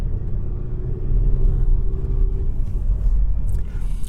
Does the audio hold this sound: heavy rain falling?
no